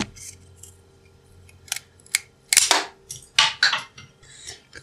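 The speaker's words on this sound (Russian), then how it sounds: "Отрезаю его с помощью ножниц по металлу." Metal shears cut through a strip of perfboard in a series of sharp, irregular snips and crunches, close up and quiet between cuts, with no talk.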